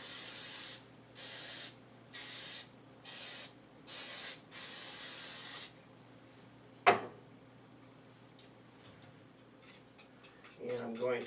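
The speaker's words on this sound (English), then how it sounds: "Now I need to spray this baking dish." Cooking spray is sprayed onto a baking dish in five short, even hissing bursts of about a second each, close and clear, followed by a sharp clack and a few quiet kitchen clinks.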